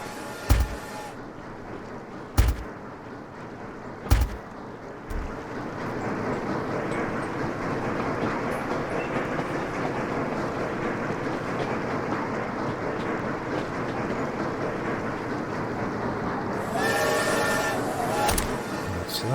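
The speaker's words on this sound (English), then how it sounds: "These are the trains going in." Trains from the video game Sweet Transit rumble steadily with a continuous rolling clatter, punctuated early by three sharp clanks and ending with a brighter mechanical hiss; fairly loud throughout.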